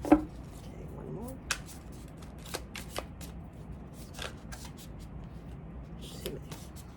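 Tarot cards being shuffled and handled nearby, with soft papery riffles and slides broken by several sharp snaps and taps at irregular intervals over a quiet background.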